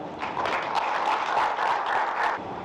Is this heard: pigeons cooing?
no